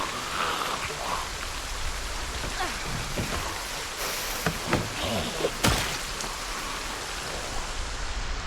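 Heavy rain keeps up a dense, even hiss during a dark storm in a zombie video game, with a handful of sharp thuds and a slam-like hit breaking through in the middle.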